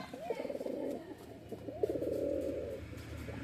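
Pigeons of fancy breeds in a home loft coo in two drawn-out throaty phrases, close and moderately loud over a low hum.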